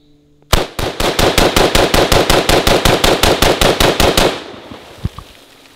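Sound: Tavor 7 7.62x51 bullpup rifle firing a magazine

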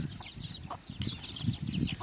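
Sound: chickens and chicks clucking

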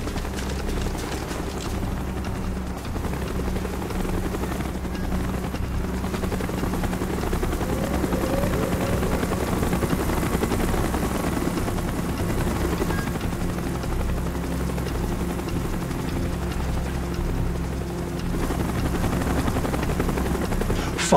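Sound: helicopter approaching in Call of Duty Black Ops video game

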